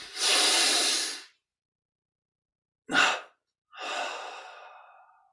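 Three forceful breaths in a yoga breathing exercise: a long rushing exhale, a short sharp puff after a silent pause, then a softer trailing exhale, all close and unaccompanied.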